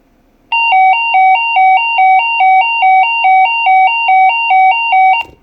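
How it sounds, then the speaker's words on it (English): A Kenwood TK-481 800 MHz two-way radio transmit error tone, sounding with no repeater connected, pulses in a repeating two-pitch pattern, about a dozen short cycles, loud and close, then cuts off abruptly. "what it sounds like if you try to transmit on a radio that doesn't have the repeater connected"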